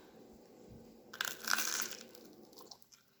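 Crunchy garlic bread baked in a toaster oven, bitten into once, giving a short, close crackling crunch that fades over about a second in a quiet room.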